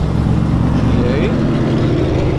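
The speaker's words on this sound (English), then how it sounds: "Hellcat Durango." A Dodge Durango Hellcat's engine rumbles loudly and steadily at a car meet, a deep continuous drone that fills the whole moment.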